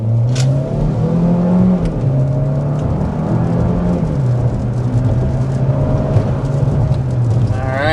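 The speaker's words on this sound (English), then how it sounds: "we want to go ahead and start with a hard acceleration so you can see all of what the powertrain is about" A 2025 Chevy Equinox RS with a 1.5L turbo engine under hard acceleration, its engine drone loud and steady from inside the cabin, rising and shifting pitch as it gathers speed, with no talking.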